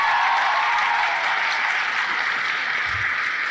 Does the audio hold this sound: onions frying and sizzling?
no